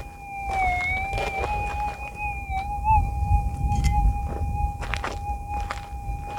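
A steady metal detector tone hums at a constant pitch, wavering slightly, with scraping and digging thumps beneath it as ground is dug in the Western Australian outback.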